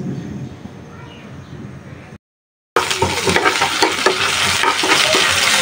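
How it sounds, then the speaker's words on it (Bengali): Chopped onion, green chilies and bitter gourd fry in hot oil with a loud, close, steady sizzle, broken by a brief moment of silence before the frying returns fuller and harsher. "তেলের মধ্যে পেঁয়াজ কাঁচামরিচ দিয়ে দিলাম আর করলাগুলো দিয়ে দিই"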